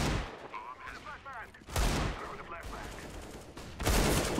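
Gunfire from an AWP sniper rifle and a Desert Eagle pistol in Counter-Strike 1.6, a few sharp loud shots spaced apart at about two-second intervals, with faint voice chatter in between.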